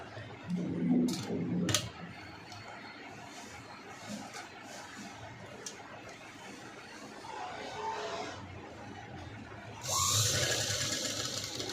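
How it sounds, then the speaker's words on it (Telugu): A sewing machine stitches a zip blouse, producing a quiet, continuous running whir with brief louder bursts at the start and near the end. "సెంటర్ పాయింట్కి ఇటు సైడ్ ఒక స్టిచ్, అటు సైడ్ ఒక స్టిచ్."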